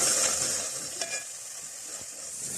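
Onions sizzle steadily in a hot pan with garlic-ginger paste while cooking for a mutton liver kalegi masala. The hiss is loud and continuous, with faint stirring scrapes and no voices.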